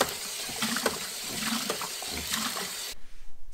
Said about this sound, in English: take some sort of sponge and we clean it out